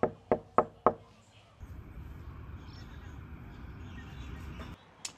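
Four sharp knocks on a door come in quick, evenly spaced succession, close and loud, followed by a steady low rumble of background noise and one faint final tap.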